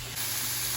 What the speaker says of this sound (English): I did spray a little Pam on it and my spatula